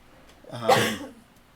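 A single short cough bursts out once, fairly close and moderately loud, then quickly fades.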